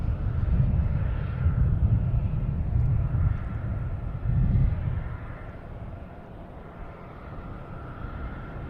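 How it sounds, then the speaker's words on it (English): A Delta Airbus A321 arriving from Atlanta at Boston Logan produces a low, rolling jet roar that swells and fades in broad waves at a moderate distance, easing to a quieter rumble toward the end. "We have a Delta coming in from Atlanta, an A321"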